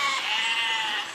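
A single sheep bleats in the physics building game Besiege, a short wavering cry heard up close.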